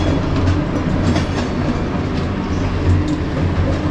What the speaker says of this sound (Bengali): এই আমাদের জানলা দিয়ে যে কত মেল ট্রেন যাওয়া যায়, এটা মানে বিহার যাচ্ছে।